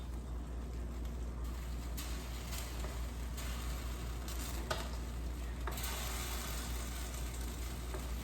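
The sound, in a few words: stirring hamburger noodle casserole in pan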